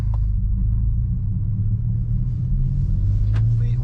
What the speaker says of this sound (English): put it in first gear and slowly set off